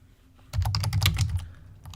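Fast, close keyboard typing as a prompt is entered into an AI writing tool: a dense burst of clicking keys that tapers off to a few scattered taps.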